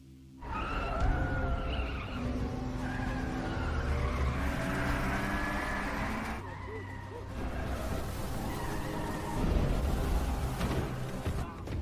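A film car chase from The Cursed: Dead Man's Prey with cars skidding and crashing: revving engines, squealing tires and thuds, with a narrator's voice talking over it.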